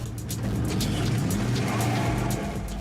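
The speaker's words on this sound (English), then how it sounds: "asked Brendan to bring his truck to a complete stop while going over 65 kilometers an hour" A truck accelerating on a paved road, its engine giving a steady, close, loud drone throughout with no voices.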